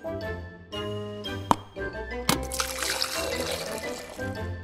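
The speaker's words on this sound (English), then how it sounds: "Ooh, I'll have a glass of water." Water pours into a glass in a school setting, a bright liquid stream with clinking, tinkling accents over a busy background of music.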